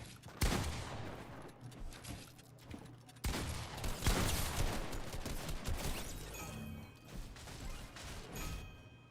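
Rapid gunshots ring out in the battle royale game Fortnite during an arena match: a sharp opening burst, then a dense, loud barrage of fire that slowly thins out near the end.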